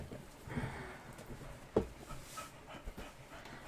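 Ruby, a pet dog, pants softly and intermittently close by in a quiet room, with a few faint breathy bursts and one sharper sound in the middle.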